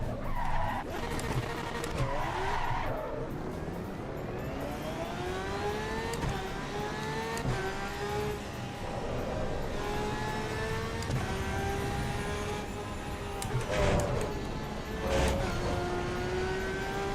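Race car in a racing video game skidding with screeching tires while its engine revs and accelerates, rising and falling pitch sustained loudly throughout, with brief sharper squeals near the end.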